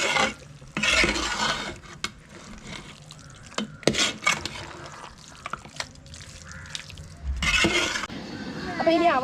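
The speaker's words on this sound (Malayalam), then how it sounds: "ഇനി എല്ലാം കൂടി നന്നായിട്ടൊന്ന് മിക്സ് ചെയ്ത് കൊടുക്കാം" Kappa biriyani with grated coconut being stirred and mixed in a pan, giving close scraping and clattering strokes in uneven bursts with a soft background hiss.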